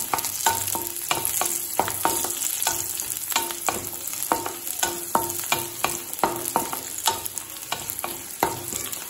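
Garlic cloves and shallots sizzling in hot oil in a pan for chutney, a continuous crackling fry broken by repeated sharp scrapes and clicks of a spoon stirring, fairly quiet and without any talk.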